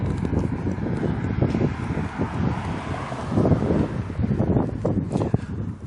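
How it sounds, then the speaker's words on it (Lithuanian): Strong wind buffets the microphone in gusty rumbling bursts for the whole stretch, outdoors in the Lithuanian border town of Kybartai near the old mill, loud and constant with no talk. "Toks vėjas, kažin ar ką girdėsit."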